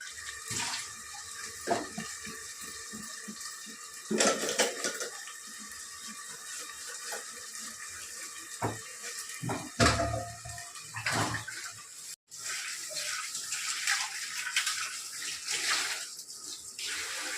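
Running kitchen tap while dishes are scrubbed and rinsed at home, a continuous splashing stream broken by clinks and knocks of vessels, close and fairly loud with no talk.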